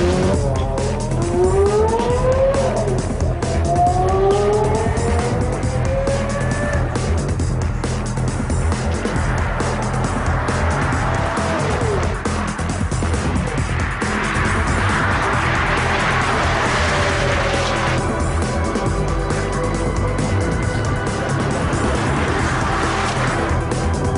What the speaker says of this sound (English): he'll already be rolling when he accelerates up to the car's maximum potential